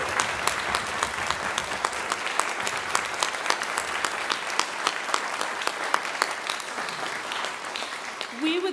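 An audience applauds the graduating class of 2025 at an art history and archaeology commencement, steady clapping with sharp individual claps throughout, tapering slightly near the end as a voice begins.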